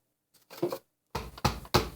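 Coffee grounds knocked out of a Bodum Bistro conical burr grinder: a soft rattling tap, then three sharp, close knocks in quick succession.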